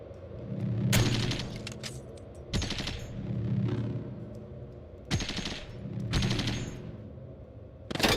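Rapid bursts of chain gun turret fire in the sci-fi roguelike Caves of Qud, several loud clattering volleys spaced through the stretch over a steady low game hum.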